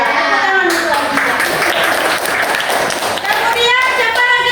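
Children clap together in a classroom during a coding lesson, a mixed patter of small hands under a teacher's voice and children's chatter, loud and close, lasting throughout.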